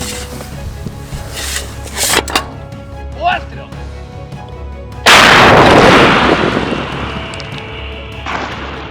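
A D-30 howitzer fires: a heavy, booming blast erupts midway and rolls into a long, loud rumbling decay, preceded by scattered clattering sounds and faint voices.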